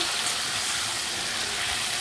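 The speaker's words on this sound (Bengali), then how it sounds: "এই পর্যায়ে দিয়ে দেব আমি পেঁপে আর আলুটা পেঁপে আলুটা বেশ কিছুক্ষণ আমি ভাজবো" Pieces of papaya and potato fry in hot oil in a home kitchen, giving a steady, even sizzle heard on its own with no voices.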